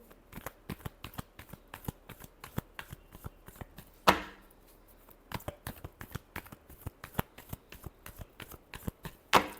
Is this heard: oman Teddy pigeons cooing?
no